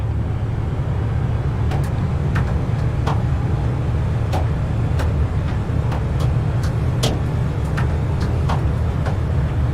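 Super late model race cars run steadily around Stafford's track under caution, their engines a continuous rumbling drone heard from a distance with faint clicks over the top and no speech.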